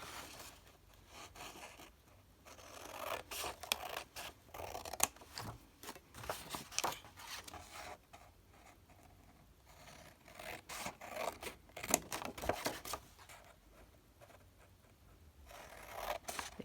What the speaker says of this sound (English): These aren't my fabric scissors, these are paper scissors.